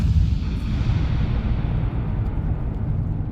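Explosions in the video game Generation Zero roll as a dense, continuous low rumble of booms, loud and sustained without talk.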